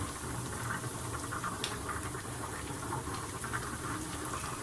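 Potatoes frying in a pot with dhania and jeera powder: a steady, close crackling patter of oil and moisture, continuous and fairly soft, with no talk over it.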